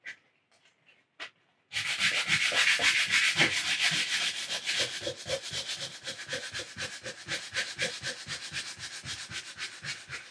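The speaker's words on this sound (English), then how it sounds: "I don't care if I sand this wrinkle kind of flat" Steady rhythmic hand sanding of a resin surface, a raspy back-and-forth scrubbing repeated many times, close up, after a few quiet taps at the start.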